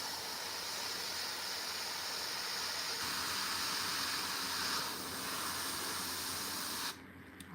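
Airbrush spraying paint onto a Warhammer miniature, a steady close hiss of air that shifts slightly in tone and cuts off abruptly near the end.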